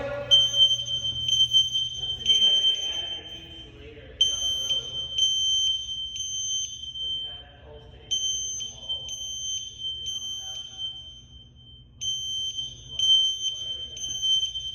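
A newly installed school fire alarm beeps in high-pitched, repeated pulsing bursts during system testing, with people talking underneath at times.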